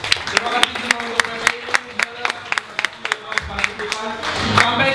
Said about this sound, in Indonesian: Tepuk tangan yang terakhir